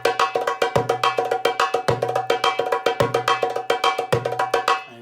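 Sharp, dry drum strokes in a fast steady rhythm, played alone and close up, with a low ringing bass tone swelling after every few accented hits as the tak stroke is worked through a repeating pattern.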